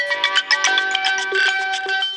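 A mobile phone ringtone plays loudly and close by, a bright electronic melody of quick repeating notes with no voices over it.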